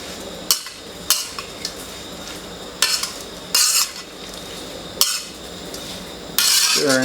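Crickets being stirred in a pan with kaffir lime leaves and lemongrass for a Thai dry-fried dish, giving sharp, repeated scraping clinks of a utensil against the pan in an irregular rhythm, close and fairly loud.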